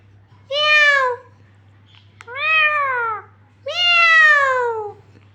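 A parrot imitates a cat's meow in three separate drawn-out calls, each rising and falling in pitch with clear gaps between them, loud and close, with no talking.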